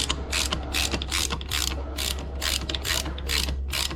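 A ratchet wrench clicks rapidly in steady bursts, close up and loud, tightening a bearing puller on a Peugeot 102/103 moped engine, with no talking.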